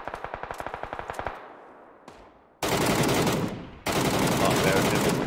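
Gunfire in PUBG on console: a rapid burst of automatic shots, a lone crack, then two loud, close, sustained volleys of heavy fire.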